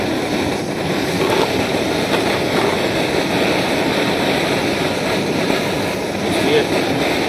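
A steady roar from an MSR Pocket Rocket camping stove burning under a pot of water, constant and close with no break throughout.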